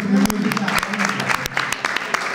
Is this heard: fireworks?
no